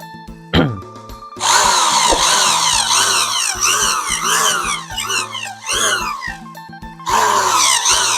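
A power drill bores holes for fitting a four-fin tail onto a bamboo rocket (bang fai), whining loudly and close in repeated bursts that rise and fall in pitch, separated by short pauses.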